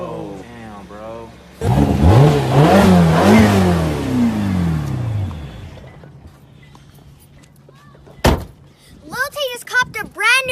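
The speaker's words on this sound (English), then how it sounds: "LilTay just copped a brand new Ferrari." A brand new Ferrari sports car engine revs hard in a loud rising and falling burst, then idles down, followed by a sharp thunk and voices.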